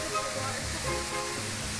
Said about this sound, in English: We've made it to the mystical waterfall.